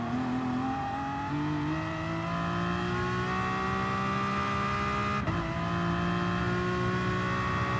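An Aston Martin DP100 VGT in Gran Turismo Sport revs hard through its gears, the engine note climbing and dropping with shifts, loud and close with a brief hitch midway; no voices.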